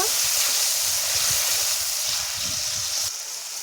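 Tomato paste, freshly ground on a stone slab, sizzles and hisses steadily as it is stirred in a hot pan for a fish curry. The frying stays close and constant, with soft scraping underneath.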